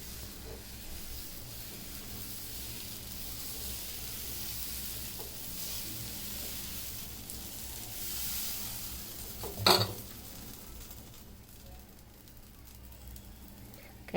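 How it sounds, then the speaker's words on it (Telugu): Carrot dosa batter sizzling on a hot pan, a soft steady frying hiss close by with a brief utensil clink partway through, no talking. "దోశ పిండి వేసుకొని"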